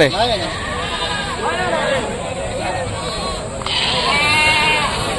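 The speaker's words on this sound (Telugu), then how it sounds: "బాబు ఇవన్నీ మేకలు నీయేనా?" Goats at a busy livestock market in Rajarampalli bleat repeatedly, several calls overlapping near and far over a steady crowd murmur and background voices.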